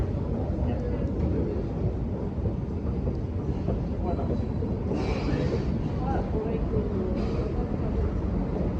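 Steady, loud rumble of a metro train filling the space, with muffled voices talking underneath.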